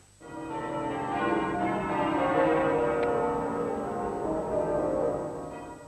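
Muffled church bells at Southwark ring in a dull, continuous peal for a royal mourning, their tones blurred and soft rather than bright.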